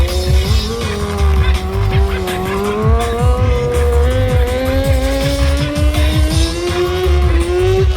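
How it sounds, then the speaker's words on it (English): A Kawasaki 636 motorcycle drifting at a drag-racing venue, its engine howling in a loud continuous rising tone with constant tire squeal and rough rumble throughout. "So this machine is the Kawasaki 636."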